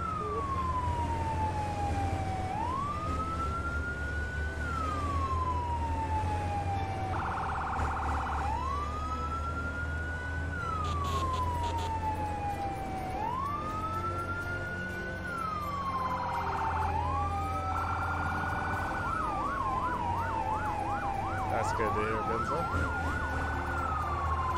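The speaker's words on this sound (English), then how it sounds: "With this siren going, I cannot hear it." Emergency vehicle siren in a firefighting simulator game, wailing in long rising and falling sweeps with brief electronic yelp bursts, loud and continuous throughout over a low engine drone.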